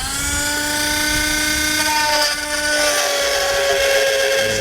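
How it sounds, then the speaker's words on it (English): A rotary tool trims a section on a 2018 Jeep JL Wrangler Unlimited, a loud, steady high-pitched whine close by that holds its pitch with slight wavering throughout. "I'm going to come back with a rotary tool and I'm going to trim out that section"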